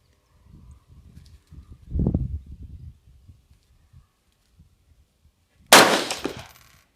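A UPR15 rifle chambered in 224 Valkyrie fires a single sharp, loud shot with Federal 90-grain rounds at an outdoor range, preceded by quiet shuffling and a brief low thump.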